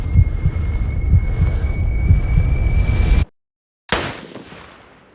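A single sharp gunshot in a war setting, a loud close crack that cuts abruptly to silence before a decaying echo, heard after a dense rumbling ambience.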